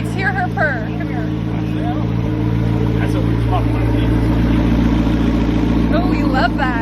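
A McLaren sports car idles with a steady, low engine hum, close and continuous, while people talk over it.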